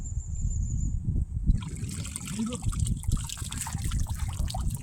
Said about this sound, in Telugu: వాగు వాగు